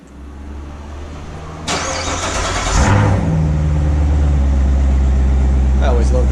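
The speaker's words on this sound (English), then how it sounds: "Cold start this morning." A Corvette Grand Sport with its stock exhaust cold-starts: after an early burst of noise, the engine catches with a loud bark and then settles into a steady, deep, rumbling idle.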